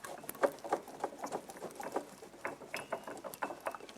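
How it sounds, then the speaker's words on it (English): Close ratcheting and scraping clicks from an oil filter wrench unscrewing a car's oil filter, in an irregular patter of small metallic snaps, with no talking. "you can just use an oil filter wrench to do this"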